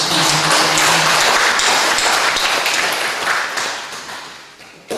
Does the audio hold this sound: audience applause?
yes